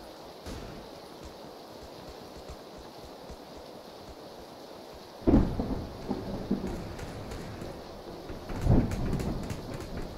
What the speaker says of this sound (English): I wonder if the fact that it's raining in the lobby area means it's actually going to be raining in the game